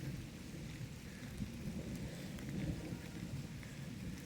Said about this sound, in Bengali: বৃষ্টিও পড়ছে জোরে।